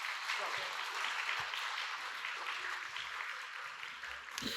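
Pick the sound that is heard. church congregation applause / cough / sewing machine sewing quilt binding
church congregation applause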